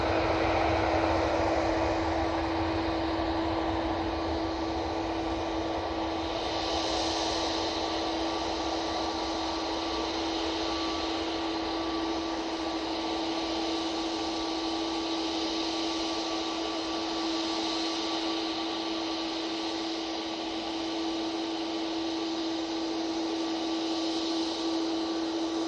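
An EasyJet airliner taking off from Manchester Airport, heard as a steady, loud jet engine roar with a constant tonal whine that holds for the whole stretch, with no voices.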